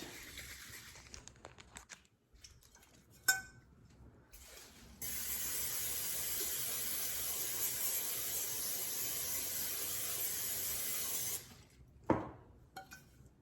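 A long, steady hissing spray from a can or bottle runs for several seconds, bracketed by a few clicks and rattles before and after.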